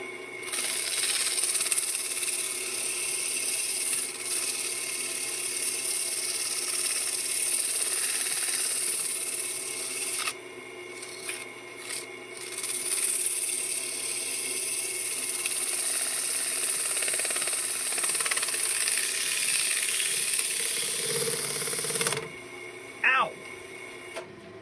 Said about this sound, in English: slow the lathe down a little bit so I can sand. So we'll see